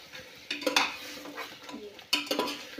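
A spoon stirs ground onion-garlic masala into a pan for chana masala, with a few scraping clinks against the metal around the start and again near the end, close and moderately loud, no talking.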